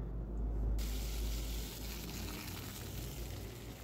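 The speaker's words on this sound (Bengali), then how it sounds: "এবারে আমি আলু যে কেটে রেখেছিলাম সে আলুকে ধুয়ে আমি এবার দিয়ে দেবো ভাজতে" Washed, cut potatoes go into hot oil in a pan, a loud burst of hissing spray that settles into a steady close sizzle.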